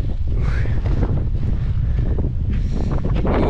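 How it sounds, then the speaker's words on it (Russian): Strong, steady wind in Kerch, Crimea, roaring and buffeting close to the microphone throughout, with a constant low rumble and no other clear sounds. "Чувствуете, какой ветер сильный?"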